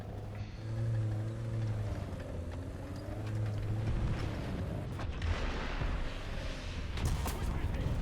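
A tank's ammo rack detonates in War Thunder, a deep rumbling blast and roar that swells and lingers over a low engine drone, with someone talking over it.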